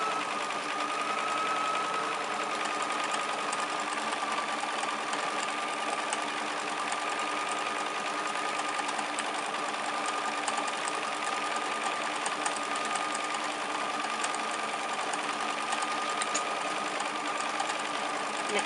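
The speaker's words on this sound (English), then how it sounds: "I'll just do a straight stitch, and you'll see me, I'm not pulling anything, I'm just gently guiding the fabric." A sewing machine runs a straight stitch on quilt fabric for machine appliqué, a steady fast mechanical whir that carries on evenly throughout at moderate volume with no voices.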